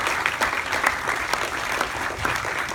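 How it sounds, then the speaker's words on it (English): Steady applause from an audience at the Toronto Tri Festival, greeting the triathlon shakeout run leaders, with dense continuous clapping at moderate distance. "big round of applause for these guys"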